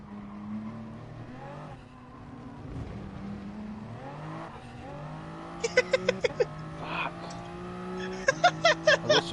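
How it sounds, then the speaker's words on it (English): Race car in Gran Turismo at Spa spinning its wheels, engine note climbing and falling through gear changes while sharp rhythmic tire chirps break out in quick bursts near the end. "I touched and got some wheel spin."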